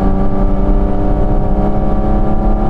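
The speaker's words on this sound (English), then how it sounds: "you get this droning sound, which is not pleasant like the induction noise" A loud, steady low-pitched exhaust drone from a Porsche 911 GT3 or GT4 RS on a track, constant and close, with a throbbing hum and no voices.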